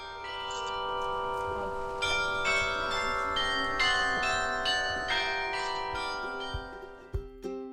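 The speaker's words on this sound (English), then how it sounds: "hearing the church bells ringing old shanties" Church bells in the small Dutch town of Grou ring out an old shanty melody, a sequence of resonant struck notes with long ringing overtones, heard at moderate distance with no talk.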